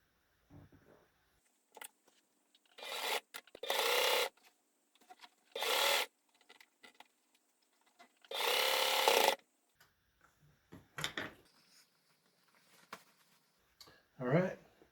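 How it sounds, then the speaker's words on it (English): A sewing machine stitches the elastic bottom panels of a fitted sheet in several short bursts of whirring with quiet pauses between them, mixed with faint handling noises and occasional brief talk. "sew the elastic bottom panels together"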